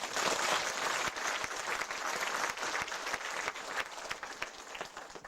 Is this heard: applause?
yes